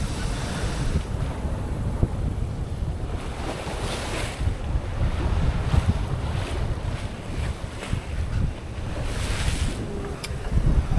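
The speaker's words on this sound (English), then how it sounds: "Sea state's calmed down. The wind's backed off a fair bit." Sailboat at sea in moderate wind with about a 12-knot breeze and easing seas, steady wind roar on the microphone over washing waves and water rushing along the hull.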